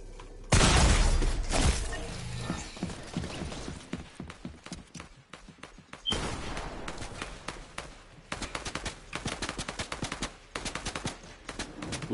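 Rapid bursts of Fortnite video-game gunfire crackle in dense volleys, loud and close, with a heavy blast near the start and quick machine-gun-like rattles through the second half.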